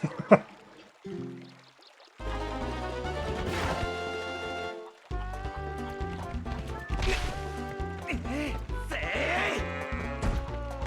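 Goat bleats from the video game The Legend of Zelda: Twilight Princess, sounding among bright game music and effects, with a short bleat near the start and further calls over the busy musical backing.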